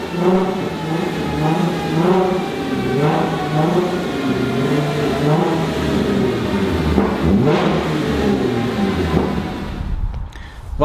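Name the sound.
car engine revving on dyno rollers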